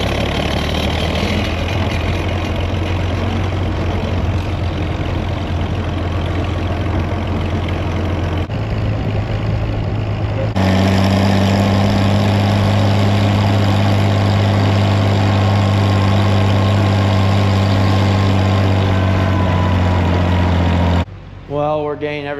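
Old tractor engines idling outdoors on a rainy day, a loud steady low rumble that drones on unbroken, shifting pitch slightly partway through before cutting off near the end.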